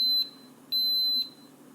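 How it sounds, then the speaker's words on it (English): Two clear electronic beeps from a Schlage Camelot BE469 touchscreen deadbolt, each about half a second long and separated by a short pause, loud and close against a quiet room. "To disable, it's 2 blinks and 2 beeps."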